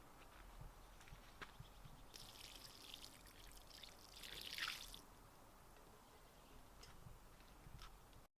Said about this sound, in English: I'll just pour it straight in.